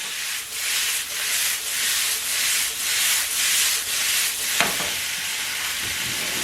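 Kimchi noodles stir-fried in a pan, a continuous hiss of sizzling with rhythmic scraping strokes as the noodles are tossed and mixed, loud and close, ending with a sharp clack of a utensil.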